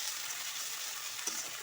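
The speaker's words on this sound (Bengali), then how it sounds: "প্রথমে আমি পেঁয়াজ বাটাটা দিয়ে ভালো করে ভেজে নিচ্ছি পেঁয়াজটাকে।" Onion paste frying in oil for a fish biryani, a steady close sizzle with a brief stirring scrape near the end.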